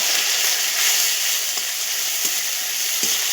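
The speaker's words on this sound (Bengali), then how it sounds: "এটা আমরা এবার কড়াইতে খুন্তি দিয়ে ভালো করে কষি নেব।" Ginger-garlic paste is stir-fried in a kadai with a spatula, giving a loud, continuous sizzle up close. Three soft scrapes of the spatula against the pan come at roughly even intervals.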